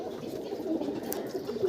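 Pakistani teddy pigeons in a loft giving a low, soft, continuous cooing murmur, close and steady throughout the brief moment, with no talking.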